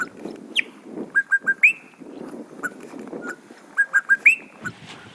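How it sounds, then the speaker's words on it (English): Two bokmakiri birds duet in the South African bush, trading loud, clear whistled notes in quick repeated bursts of three or four, with rising slurred calls between them, close and crisp over a quiet background. "I fell captive to a serenade by two bokmakiris"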